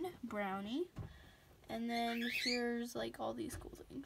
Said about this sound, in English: I'm sorry if you hear my birds in the background.